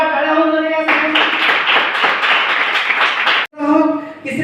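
Loud clapping from a crowd at a school quiz competition, starting under a tonal voice and swelling into dense applause, with a brief dropout before the voice returns.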